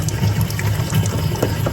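Filtered water runs steadily from a tap at a temple in Maligawila, a continuous close gush of flowing water with no talking over it.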